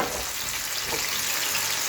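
Steady, dense sizzling of onions frying in hot sunflower oil, close and continuous with no breaks.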